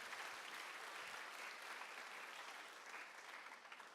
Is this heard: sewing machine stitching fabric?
no